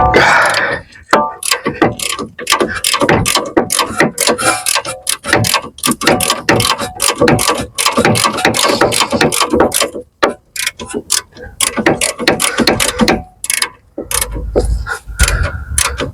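Rapid ratcheting clicks from a socket ratchet turning a bolt during front control arm and anti-roll bar link work on a Tesla Model X, dense and close, in long bursts with brief pauses.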